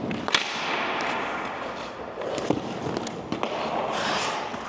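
Hockey pucks fired at a goalie during a goaltending drill give a string of sharp, irregular cracks and thwacks spread over a few seconds against a hollow rink ambience.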